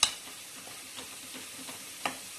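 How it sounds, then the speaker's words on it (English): Rice and chicken simmering in stock under a lid in a pan, a faint, soft bubbling with a few light clicks and a brief louder tap near the end. "So cover it with a lid and keep it on a simmer for a while."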